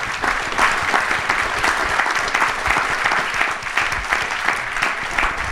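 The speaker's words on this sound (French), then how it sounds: "je pense qu'on peut encore les applaudir" Sustained applause from a round-table audience fills the room, a dense, steady wash of clapping hands lasting the whole stretch without pause.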